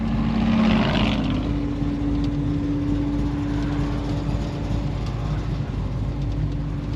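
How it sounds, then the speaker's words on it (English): Steady low engine idle rumble heard from inside a car, with a faint hum held throughout, no talking. "I'm inside the car and we're idling, and it's usually pretty loud in here"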